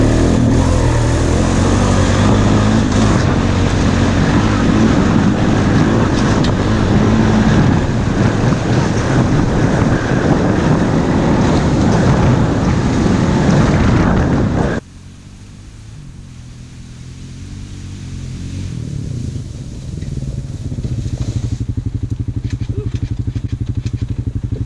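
A Foreman 450 ATV ridden through woods in November, its engine buried under heavy, loud wind rush for about fifteen seconds before the noise drops to a quieter, steady engine rumble.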